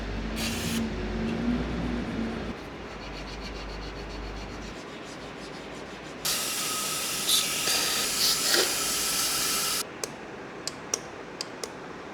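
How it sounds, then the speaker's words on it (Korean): Parts cleaner sprayed onto a Ducati Panigale V2 during maintenance: after a stretch of low handling noise comes a steady, close aerosol hiss lasting a few seconds, followed by a few small clicks. "살짝살짝 분사해도 엄청 깨끗해집니다"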